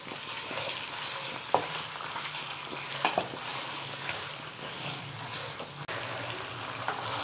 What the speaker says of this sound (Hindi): इसी में हम 750 ग्राम मटन डालकर इसको हम 7 से 8 मिनट के लिए फ्राई करेंगे।